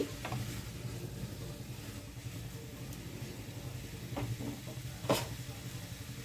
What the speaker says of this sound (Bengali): ভালোভাবে সব আনাজের সাথে বাটা মশলাটা মিশিয়ে নিচ্ছি।